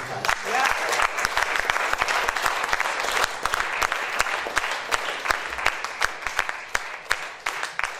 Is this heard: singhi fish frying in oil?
no